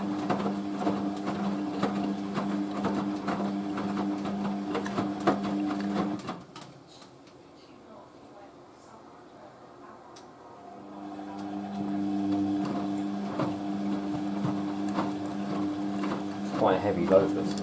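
An Indesit WIXXL146 washing machine runs an Easy Care 50°C cycle with a heavy load, giving a close, steady motor hum and churning that dips to a quieter lull for a few seconds before building back up.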